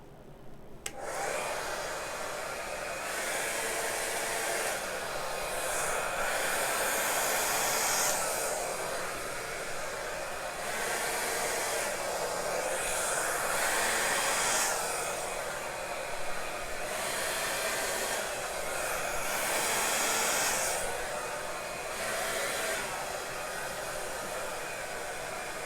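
A hair dryer blows out a fresh acrylic paint pour, a loud steady close whoosh that runs continuously for the whole stretch with gentle swells as the airflow shifts.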